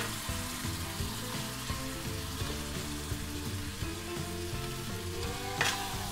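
Boiled eggs added to a pan of frying masala thinned with a little water give a soft, faint, steady sizzle, with a tonal background hum running underneath.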